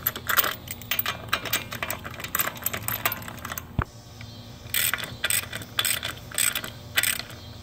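A ratchet with a 21mm socket snugs the lug nuts on a Kia Soul's rear wheel in quick bursts of clicking, broken by short pauses and one sharp metallic tap, close and without talk.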